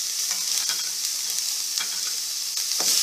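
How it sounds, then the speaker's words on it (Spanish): Strips of pepper frying in olive oil with onion and garlic for Veracruz-style fish, a loud, continuous hiss and crackle close up, with scattered small pops throughout and no voices. "Incorporamos los pimientos en tiras,"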